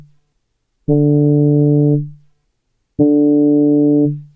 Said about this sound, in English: Here it sounds more like a trumpet.